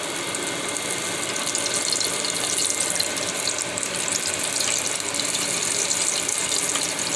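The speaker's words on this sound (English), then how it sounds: "Make sure the oil is hot, because that's going to make the difference" Chicken wings fry in hot oil, giving a steady, close crackle and sizzle with dense fizzing throughout and no voices.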